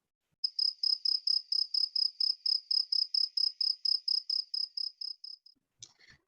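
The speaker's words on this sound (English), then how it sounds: "The sound that matches the frequency of this chakra is the sound of crickets who produce a sound at night." A cricket chirps at night in a clean, regular series of about twenty high, pulsing trills, close and clear against silence, ending with a faint rustle.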